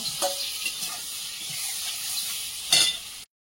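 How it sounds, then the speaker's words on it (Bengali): Eggplant pieces fry in hot oil, giving a steady close sizzle and hiss throughout, with a brief louder crackling burst near the end and no talk. "বেগুনগুলো এই তেলে ভেজে নেব।"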